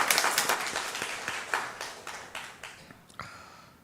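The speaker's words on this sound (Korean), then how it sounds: "하나님께 영광의 박수를 돌립니다." A church congregation claps together in a steady rhythm that gradually fades, ending with a few scattered final claps in a reverberant hall.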